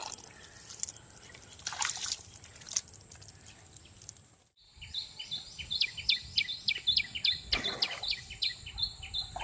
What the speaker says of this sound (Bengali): যে পাখিদের কোলাহল সারাক্ষণ কিন্তু এই নদীটি আমাদেরকে মাতিয়ে রাখবে। দেখেছেন কত সুন্দর ডাকছে।